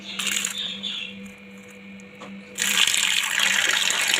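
Water poured from a vessel over soybeans to soak them in a home kitchen, a close steady splashing and trickling that swells louder and fuller for the final second and a half.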